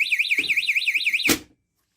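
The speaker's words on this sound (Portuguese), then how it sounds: "só para demonstrar esse dispositivo, que é um alarme de porta aberta" An open-door alarm sensor emits a loud, rapidly warbling electronic tone that wavers steadily, broken by two soft clunks of the door, then cuts off abruptly into silence.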